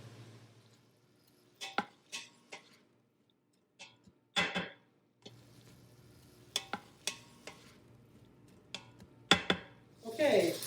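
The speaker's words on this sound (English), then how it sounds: "and then we're going to add our soy curls." Soy curls going into an Instant Pot with sautéed onions and peppers: scattered close clatters and stirring scrapes against the pot, with quiet stretches between, and a brief louder sizzle-like burst near the end.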